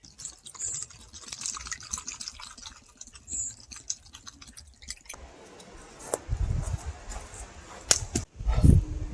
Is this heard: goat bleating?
no